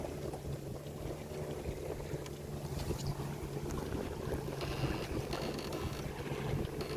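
A sailboat moves through the water in steady wind, giving a constant rushing wash and wind noise with no talking.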